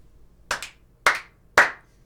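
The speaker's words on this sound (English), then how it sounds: "Okay, 3 claps." Three sharp hand claps ring out close and clear at an even pace, the first slightly doubled, with quiet between them and no talk.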